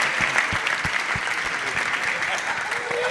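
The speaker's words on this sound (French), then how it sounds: "je vous prie d'applaudir très fort pour le président des célibataires" Audience applause at a comedy show in French, a dense crowd clapping continuously and briskly, fairly loud, with a voice speaking over it.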